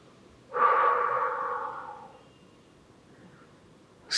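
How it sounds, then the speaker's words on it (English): One long, soft breath during a yoga relaxation exercise, a smooth airy exhale fading gradually, heard close and alone in a quiet room. "Slow, soft inhalation and exhalation."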